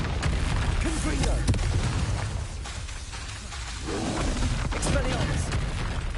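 Bombarda spell explosions from Hogwarts Legacy on PlayStation 5 boom in quick succession, loud and near, with dense rumbling blasts, a brief lull midway, then more bursts.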